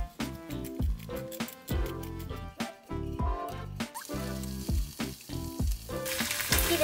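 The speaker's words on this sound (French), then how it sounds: "Ça commence à chauffer, donc je vais mettre du viande hachée." Minced meat sizzles in a hot pan while Japanese-style eggplant dishes are prepared, the frying hiss growing stronger in the second half beneath loud, continuous background music.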